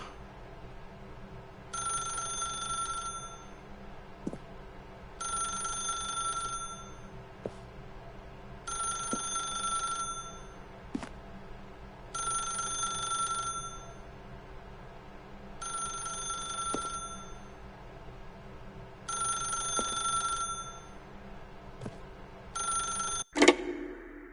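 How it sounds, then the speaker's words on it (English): A telephone rings in the video game The Stanley Parable 2, six regular double-trill bursts of a bright bell separated by short pauses, fairly loud over a low ambient hum, ending with a sharp click as the receiver is picked up. "If you can truly place your faith in another, then pick up the phone."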